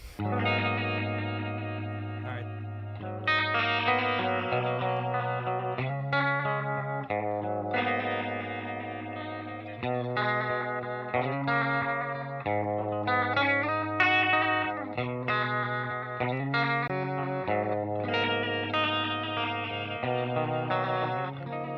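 Electric guitar through a Walrus Slotva pedal set to a lush stereo chorus, chords and picked notes shimmering and swirling in a steady, continuous passage, close and full with no talking over it.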